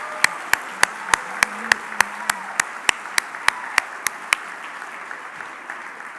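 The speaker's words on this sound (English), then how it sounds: "Let's give all our sponsors a round of applause." Evenly spaced, sharp claps ring out about three per second over a steady low hiss at a health heroes celebration, fading slightly toward the end with no talk.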